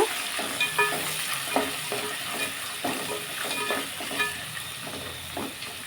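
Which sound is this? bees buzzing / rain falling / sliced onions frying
sliced onions frying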